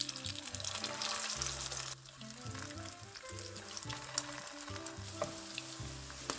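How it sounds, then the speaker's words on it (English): Patties fry in avocado oil in a non-stick skillet, a steady crackling sizzle with lower scraping and shifting noises underneath, close and moderately quiet. "To our non-stick skillet, we are going to add some avocado oil and drop in our patties."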